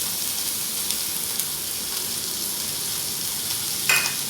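Ivy gourd and onions sizzle steadily in a hot pan during stir-frying, a constant crackling hiss with faint scraping and a brief clink near the end.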